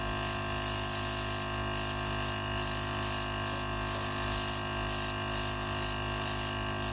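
An airbrush sprays colour onto a fondant-covered galaxy cake in repeated short bursts as the lever is pulled back and released, an even rhythmic hiss about twice per second over a steady background hum.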